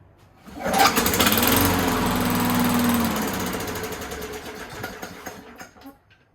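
A Craftsman walk-behind lawn mower with a Pulsajet carburetor, freshly serviced with new air filter, cleaned spark plug and new blade, starts up loudly and runs for several seconds, then sputters and fades as the fuel bowl runs dry.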